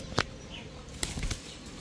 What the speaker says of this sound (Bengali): এটা একটা নর কবুতর, বেজি একটা নর।